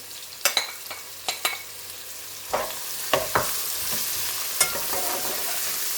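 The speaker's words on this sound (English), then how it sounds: "leave it on a medium flame and let the onions go translucent" Chopped and grated onions fry in a pan over a medium flame for a kodu and rohu curry, giving a faint sizzle broken by several sharp clicks and scrapes of stirring, with no talking.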